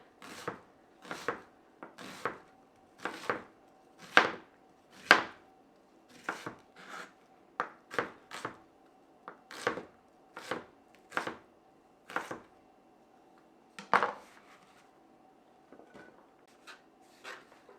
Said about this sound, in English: we are going to finish dicing our onion